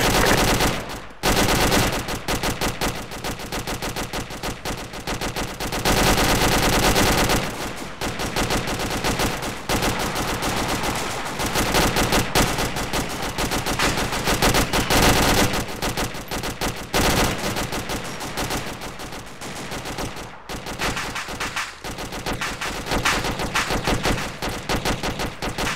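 Sustained bursts of automatic machine gun fire in a military shooter video game, loud and near, with rapid rattling volleys, brief pauses and overlapping shots throughout, no talking.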